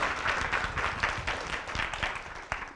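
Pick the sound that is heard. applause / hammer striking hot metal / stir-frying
applause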